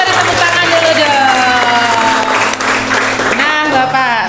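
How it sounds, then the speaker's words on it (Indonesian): A crowd applauds with steady clapping and some cheering, while a voice carries on over the noise. "Kita beri tepuk tangan dulu dong."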